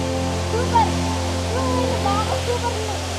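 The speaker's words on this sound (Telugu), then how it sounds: "చూడండి వాటర్ ఫాల్ ఎట్లుందో" Steady rushing roar of a waterfall fills the clip at a constant level, with a person talking over it throughout.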